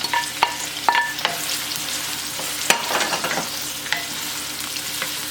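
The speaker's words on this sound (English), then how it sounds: "To the same oil, I'm gonna fry this onion." Onion fries in the same oil used for cashews, a dense, loud sizzle broken by repeated scraping clicks and knocks of a stirring spoon against the pan.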